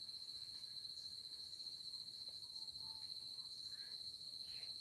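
An afternoon cricket chorus rings as an unbroken high-pitched trill, faint and even, with a few soft, distant chirps scattered through it.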